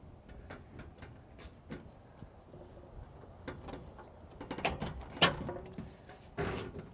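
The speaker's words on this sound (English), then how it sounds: "we're gonna mess with this little lever over here on this side" The lever on a Peragon truck bed cover fitted to a 2022+ Toyota Tundra unlatches in a string of sharp plastic-and-metal clicks and rattles, building to louder clacks near the end.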